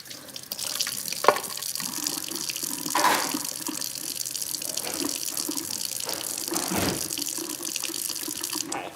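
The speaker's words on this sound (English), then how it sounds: "let's wash these baby bottles" Tap water runs steadily into a sink while baby bottles are washed, a close, continuous splashing stream with occasional clinks and shifts as the bottles move under the flow.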